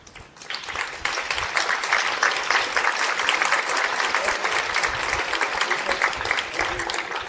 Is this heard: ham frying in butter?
no